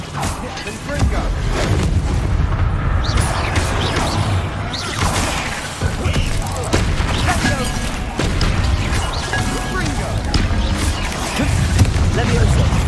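Explosive Confringo spell blasts in Hogwarts Legacy, a loud, dense run of booming, crashing magical impacts and whooshes, repeated over and over amid continuous game effects.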